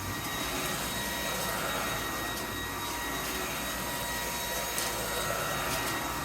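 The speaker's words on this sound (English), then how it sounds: "we measure the max decibels with our max suction mode enabled vacuuming carpet" A Lubluelu 25Kpa cordless vacuum cleaner on max suction roars continuously over carpet, a loud steady whine with airy rushing noise, close by and unbroken.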